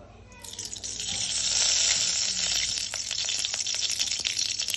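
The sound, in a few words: oil sizzling in a pan for tempering hakka noodles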